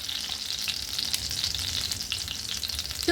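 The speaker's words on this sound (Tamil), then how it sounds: "இதில் கொஞ்சம் ஜீரகம் சேர்த்துக்கிறேன்." Cumin seeds sizzling in hot oil and butter in a pan, a steady close crackling fry with no voices.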